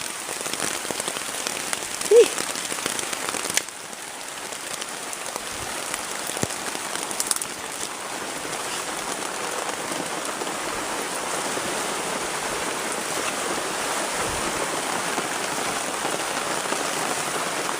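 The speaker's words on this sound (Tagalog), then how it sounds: "Grabe yung ulan. Sobrang lakas talaga." Heavy rain pours steadily, a dense hiss of drops drumming on surfaces, close and loud throughout with no voices.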